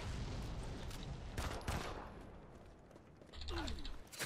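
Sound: pistol gunfire in Modern Combat 5 video game

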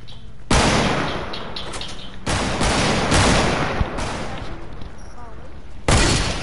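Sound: sniper rifle gunfire in a video game

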